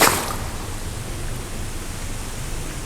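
Floodwater pumped out of a basement after heavy rain runs downhill in a small creek, giving a steady, broadband rushing hiss throughout with no voices.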